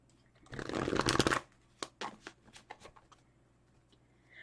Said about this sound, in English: Judith, I am pulling a card for you, my darling.